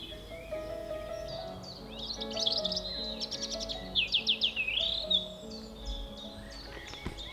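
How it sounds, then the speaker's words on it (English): Birds sing on a quiet farm in Suffolk, their bright chirps and trilled phrases clustering in the middle of the clip over a low steady background hum, fairly close and clear with no talking. "it's quiet and there's like birds singing"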